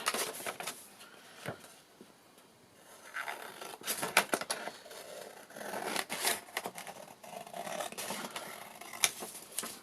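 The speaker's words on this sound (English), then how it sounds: "and then I'm going to cut along the pencil line that I've just made." Scissors cut patterned paper along a pencil line during an art journaling craft, giving intermittent close snips and papery scratching and tearing sounds with short pauses between cuts.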